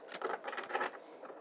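A deck of healing oracle cards being shuffled by hand, a quiet, close run of soft riffling flutters and taps lasting about a second and a half, with no talk.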